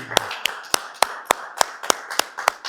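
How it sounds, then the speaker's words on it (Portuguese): A church congregation claps in unison during a worship service, sharp evenly spaced claps about three per second, clear and close with little else behind them. "Vamos saudar o nosso Deus com uma linda salva de palmas, amém?"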